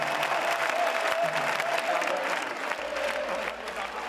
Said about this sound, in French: Soudain, les applaudissements se déchaînent.